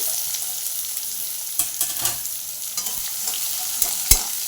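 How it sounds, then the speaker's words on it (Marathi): Finely chopped onion sizzles in hot oil with curry leaves while being stirred, giving a soft, continuous fry with occasional scraping clicks, close by and fairly quiet, with no talking. "इथे मी छान असा बारीक कापून घेतलेला कांदा होता तो मी कांदा टाकते"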